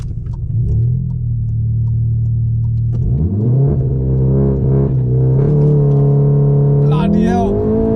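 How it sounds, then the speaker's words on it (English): A 2015 Volkswagen Golf R MK7 launches hard, its engine rising and pulling through gear changes in a loud, sustained roar heard from inside the car, with people talking over it. "just launch the car"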